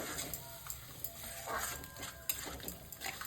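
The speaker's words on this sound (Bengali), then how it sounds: "জিরে গুঁড়ো, ধনে গুঁড়ো, বেটে রাখা আদা, কাঁচা লঙ্কা, রসুন। মশলাটা কষিয়ে নেব।" Spice paste of cumin, coriander, turmeric, chili powder, ground ginger, green chili and garlic sautéing in a pan, with a soft steady sizzle, light stirring scrapes and a few faint utensil clinks.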